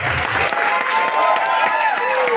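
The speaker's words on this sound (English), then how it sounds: "Please give a big round of applause" Audience clapping and cheering at an event honoring hotel management students' world record, a brief burst of crowd applause with a voice speaking over it.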